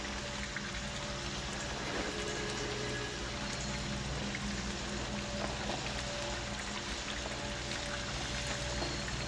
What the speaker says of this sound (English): It's raining off of the ledge or something, but it's really just gushing out